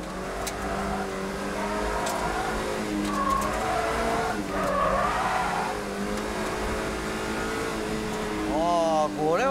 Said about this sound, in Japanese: 最後はフリッカーして滑り出しの引っかかり感をチェック